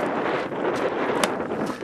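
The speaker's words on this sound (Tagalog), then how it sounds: "Mahangin ngayon, kaya di ako nakikita." Wind blows hard across the microphone outdoors in Kelowna, making a loud, continuous rumbling buffet with gusty swells and no clear speech.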